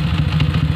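A Honda CB motorcycle fitted with a PWK 30 carburettor idles close by, a loud steady low-pitched engine thrum with a fast even pulse and faint mechanical clatter.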